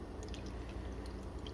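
Herbal decoction poured through a linen cloth during straining: a steady, continuous trickle with soft dripping, close and fairly quiet, with no voices.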